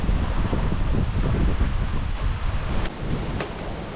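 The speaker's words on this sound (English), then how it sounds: "It is so windy. Hopefully this audio is alright." Strong outdoor wind hits the microphone in a dense roaring buffet that carries through most of the moment, then eases slightly near the end, with a couple of faint higher clicks.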